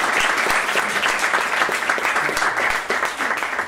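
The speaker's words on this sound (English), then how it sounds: "Could we give them all a round of applause?" An audience at a school heads' forum gives a round of applause, many hands clapping in a loud, sustained burst that holds steady throughout and eases off slightly toward the end.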